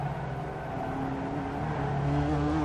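Race car engine in the iRacing video game at Summit Point, a steady droning tone whose pitch slides and shifts as the car slows hard for a corner, close and continuous with no voices.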